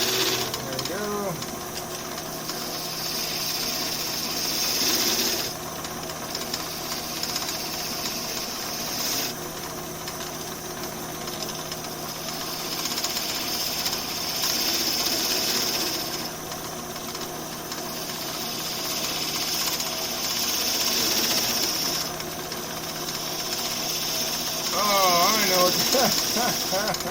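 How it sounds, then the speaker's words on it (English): A wood lathe spins slowly at 400 RPM while turning a wooden frame for stained glass art, giving a steady mechanical hum and whir throughout with intermittent scraping as the tool bites, and a person talking over the machine. "I'm turning at 400 RPM. That's the slowest my lathe can go."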